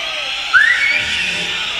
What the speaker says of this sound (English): Let's all have a fucking good whistle!